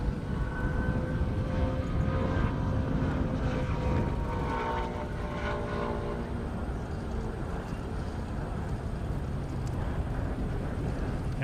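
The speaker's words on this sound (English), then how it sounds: "it sounds like we're going to have a plane that's going to do what you call an approach practice" A low airplane engine drone from a plane flying an approach practice over an airfield drag-racing event, with a sustained, slightly wavering tone, passes overhead, loud at first and then easing off into a steady rumble.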